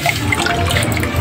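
Water pours steadily into a bottle, a continuous close splashing and gurgling rush with no talk over it.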